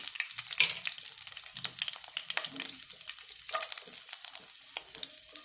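Ginger pieces fry for temple-style veg pongal, a quiet close sizzle with crackling pops and occasional stirring scrapes, no voices over it.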